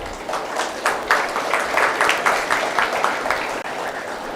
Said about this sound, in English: May I have a huge round of applause for Dr. Kuldeep Kumar